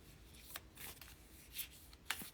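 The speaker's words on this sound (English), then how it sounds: "These cards don't want to shuffle for me today." Tarot cards are shuffled by hand in several soft, brisk riffles with short pauses between them, quiet and close.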